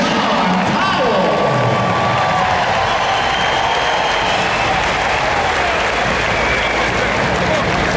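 Football fans give a loud, dense ovation for Shawn Powell, a roaring crowd of clapping and cheering that fills the whole stretch at constant high volume.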